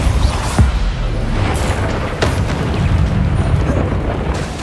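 Blasting spell explosions in the video game Hogwarts Legacy, several loud booming bursts with sharp impacts at irregular intervals over a dense rumbling backdrop of combat noise.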